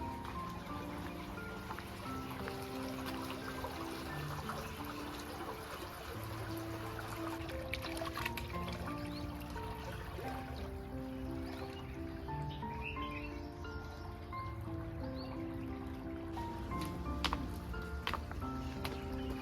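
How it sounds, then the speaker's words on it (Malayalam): Water trickles along an irrigation channel in the Al Ain oasis, a soft continuous flow heard from close by under faint outdoor ambience, with a musical tone running throughout. "വെള്ളത്തിൻ്റെ സൗണ്ട് കേൾക്കാം"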